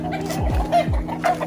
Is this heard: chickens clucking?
yes